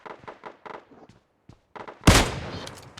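Sniper gunfire in a mobile battle royale video game, one loud sharp shot with a decaying tail near the end, after a stretch of short rhythmic in-game sounds.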